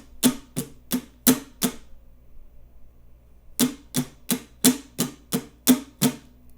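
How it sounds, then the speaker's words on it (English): An acoustic guitar plays even down strums for a song: a quick run of five bright, full strums, a pause, then eight more in steady rhythm, close and clear with no talking. "As you can see, it's just 8 down strums"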